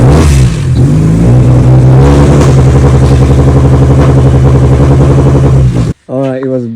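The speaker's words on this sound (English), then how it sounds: "Today we just got the car started." A Nissan S15 engine revs loudly and steadily up close for about six seconds, rough and throbbing, then cuts off abruptly before a brief voice.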